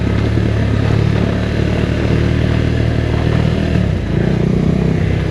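A motorcycle rides off-road routes in Costa Rica over loose asphalt and mud, its engine droning loud and steady with wind rush and rattling throughout, a brief dip near the end.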